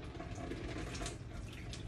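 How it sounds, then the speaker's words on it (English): Water from cooked pasta pours off steadily in a continuous gushing, splashing rush, loud and close, with no breaks across the moment. "Draining my water off, guys."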